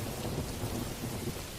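Steady rain pours alongside low, continuous thunder rumble, forming a dense, even storm ambience for a dark, rainy-night sleep story, with no voices.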